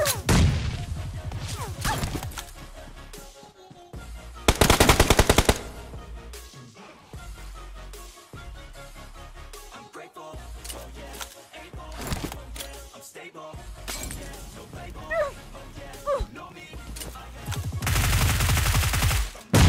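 Gunfire in the mobile battle royale game BGMI (PUBG), with bursts of rapid automatic shots and loud blasts coming in clusters and lulls between them, close and punchy, with no voice over it.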